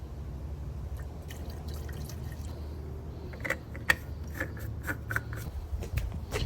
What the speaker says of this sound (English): Pour the oil.